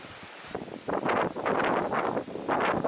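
Gusty wind buffets the microphone on a countryside walk in the Lincolnshire Wolds near Croxby, rising and falling in loud, rough surges.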